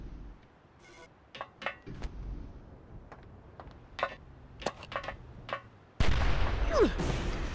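Gunfire in the video game Oni comes as a series of sharp, separate shots spaced unevenly, followed by a sudden loud burst of dense noise near the end.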